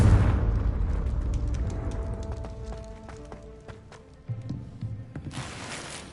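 A Confringo blasting spell goes off in the Hogwarts Legacy video game, opening with a loud burst and trailing into a long rumbling decay, with a second thump and a bright noisy swell toward the end.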